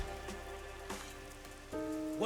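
Steady rain falling in the video game Master Detective Archives: Rain Code, a constant soft patter beneath louder tonal background music.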